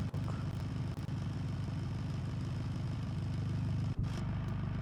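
A Volkswagen Tiguan's engine idles in the BeamNG.drive driving game, a steady low rumbling drone with a fast even pulse, loud and close, holding unchanged for several seconds with a couple of brief dips.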